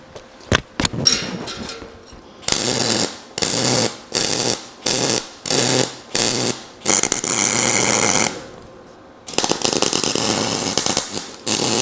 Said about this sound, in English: I'm kind of just welding anywhere and everywhere. Now it is messy and creates a lot of smoke.